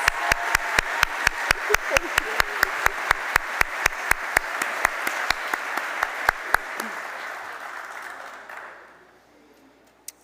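Rhythmic applause from a crowd at a white coat ceremony, with sharp, evenly spaced claps on top, steady for several seconds before fading out, ending with one last clap.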